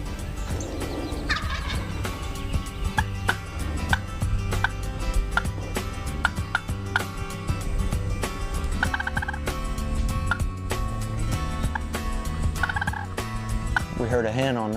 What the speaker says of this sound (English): the turkey was gobbling with us and talking with us.